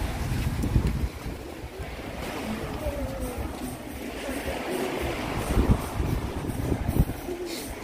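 A boat crossing the sea to a deserted island in St Vincent, with a steady engine rumble, wind buffeting and splashing waves, and faint voices now and then.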